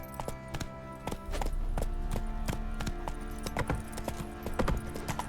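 Horse hooves clip-clop in a steady, close rhythm while riding in The Witcher 3: Wild Hunt, with game music and ambience continuing underneath.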